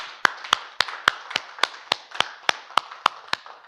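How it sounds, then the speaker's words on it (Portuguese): A church congregation claps in a slow, steady unison rhythm, about a dozen sharp, evenly spaced claps with little else underneath. "Palmas ao Senhor."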